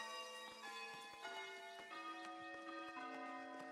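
A bell tower in the video game Foundation rings a slow melody, steady bell-like tones stepping between pitches one after another, each note sustaining and overlapping the next, soft and alone.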